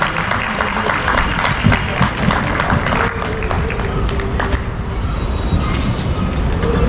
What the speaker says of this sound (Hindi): अगर आपका आदेश हो तो एक बार तालियों से आप लोग आदेशित कर दीजिए